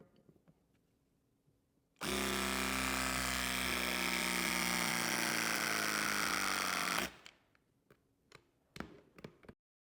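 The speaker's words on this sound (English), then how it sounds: "Then you swap the lug over to do the next crimp." A Klauke EKM60ID battery crimping tool runs for about five seconds as it crimps a cable lug, a loud steady motor whine with a slowly shifting pitch, followed by a few small clicks and handling knocks.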